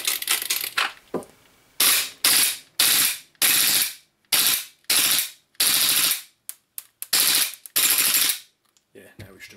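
Gas-powered pistol firing full auto from an Armorer Works adaptive drum magazine in cold weather, loud sharp bursts of rapid shots in about eight strings separated by short pauses, with mechanical clicks between them and no talk.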